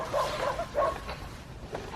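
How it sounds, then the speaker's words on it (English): A dog barks a few short, fairly distant yaps on a coastal walk between Upnor and Rochester, over outdoor background noise. "There's a dog."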